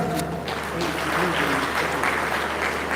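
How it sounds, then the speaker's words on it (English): A large audience at the Baze University Founders Day ceremony gives a steady round of applause, dense and sustained in a reverberant hall, with speech running over the clapping. "Please do give another round of applause for our very distinguished Vice Chancellor of Baze University."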